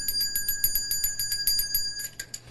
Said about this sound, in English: Touch the bell.